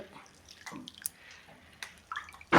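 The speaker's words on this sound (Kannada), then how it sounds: "ಇದನ್ನ ಸ್ವಚ್ಛ ಹಂಗೆ ತೊಳೋದು" Faint, intermittent sloshing and trickling of water as something is rinsed by hand, ending with a louder splash.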